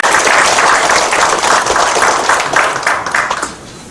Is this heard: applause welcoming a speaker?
yes